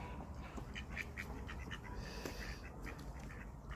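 Ducklings with purple-tinged necks quack in soft, repeated bursts as they walk, fairly close but quiet over a constant low background hum.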